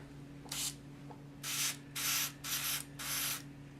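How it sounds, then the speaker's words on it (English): A paint spray gun fires five hissing bursts, one short and four longer, in a steady rhythm close to the listener over a low background hum. "I could even hear the difference in the spray"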